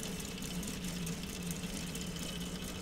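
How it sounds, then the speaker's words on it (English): Small solar-powered K'nex model engine with camshafts and rockers running steadily, a continuous low mechanical whir and hum with no voices. "And there you have it, one Knex engine."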